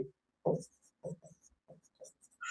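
Short scratchy writing strokes on a board or paper during a Class 10 polynomials maths lesson, a handful of quick irregular scrapes close by with brief pauses between them.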